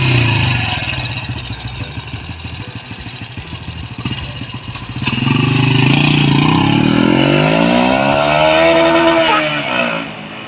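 Modified motorcycle with upgraded cam and exhaust, revving hard in rapid bursts against the rev limiter, loud and close, then climbing into sustained high-rpm wails that rise and fall.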